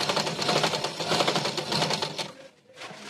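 An electric sewing machine runs a steady, rapid stitching whir while sewing a double-stitched band on a blouse collar, then stops abruptly near the end.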